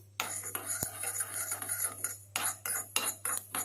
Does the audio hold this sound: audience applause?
no